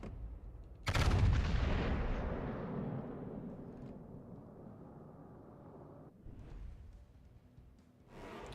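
A warship's main guns fire in World of Warships: Legends, opening with a heavy close boom that rolls into a long rumbling decay, followed by further duller reports later on.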